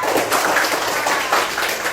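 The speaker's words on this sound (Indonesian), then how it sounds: "tepuk tangan untuk kelompok 1" A classroom group gives a short round of clapping for group 1, a dense, steady patter of many hands close by, lasting about two seconds.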